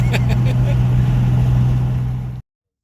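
A Toyota Supra MKV fitted with a TOMEI exhaust gives off a deep, steady engine drone up close for about two seconds before it cuts off abruptly.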